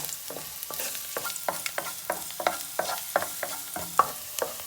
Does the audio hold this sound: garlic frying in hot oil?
yes